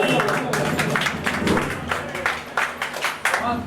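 A crowd at a mushaira welcome applauds steadily in a thick burst of clapping, with a speaker's voice carrying over it.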